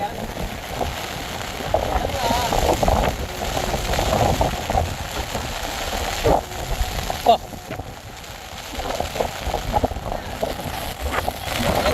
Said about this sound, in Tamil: எங்கண்ணே காற்று அப்படி அடிக்கி பாருங்க.